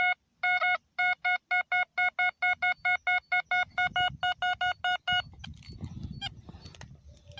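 A metal detector sweeping over a buried copper coin gives a rapid series of short, identical high beeps in a steady rhythm, then falls quiet into soft outdoor rustling and handling noise.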